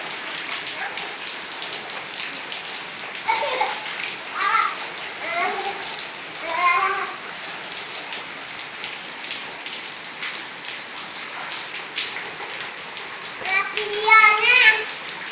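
Rain patters continuously while children play in it, their voices and shouts rising in bursts over the steady hiss, loudest near the end.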